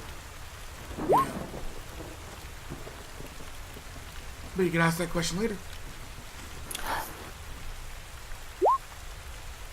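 Rain pours steadily in a rainforest at night, with a few deep thunder rumbles breaking through and people talking over the downpour.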